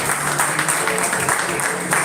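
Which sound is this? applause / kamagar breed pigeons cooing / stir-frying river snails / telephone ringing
applause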